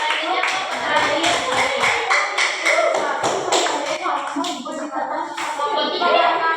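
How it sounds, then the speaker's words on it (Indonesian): A classroom group claps for a second presentation team, a dense, steady burst of many hands lasting several seconds, with some voices mixed in. "Beri aplaus untuk kelompok 2"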